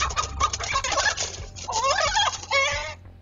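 A rooster and hens are heard in a run of loud, close fowl calls: warbling gobble-like cackles and clucks that overlap and rise and fall, with no voices.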